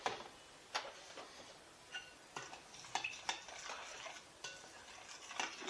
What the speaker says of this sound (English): so we're going to give that a good mix